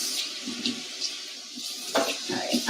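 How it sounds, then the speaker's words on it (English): A jar is rinsed out under running tap water while bottling kombucha, with a short splashing gush of water that swells toward the end. "I am gonna rinse this out one more time"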